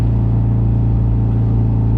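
A turbocharged Honda S2000 engine holds a loud, steady, close-up droning rumble, with no rise in revs across the whole short stretch.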